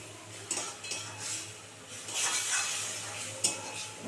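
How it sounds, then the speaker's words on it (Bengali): Fish with cauliflower and green chilies being sautéed in a pan, with soft scraping stirs and light clinks of a utensil against the pan over a low sizzle, steady with a few sharper knocks. "এবার এটাকে খুব সুন্দর করে কষাবো।"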